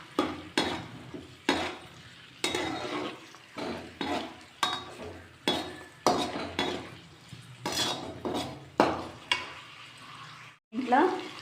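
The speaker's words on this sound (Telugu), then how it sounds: "వేయించుకోవాలి." Ginger garlic paste fries in a pan, a soft sizzle broken by repeated rhythmic scrapes and clinks of a spoon stirring against the metal, close and fairly quiet, with no talking.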